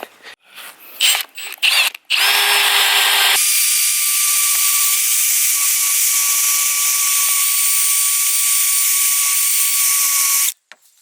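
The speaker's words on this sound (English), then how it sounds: "If you have one of these eraser wheel, it helps to get off the residue on the roof." A drill fitted with an eraser wheel removes adhesive residue from the roof of a Toyota 80 Series Land Cruiser. After a few brief clicks it whirs loudly and steadily for several seconds, then stops abruptly.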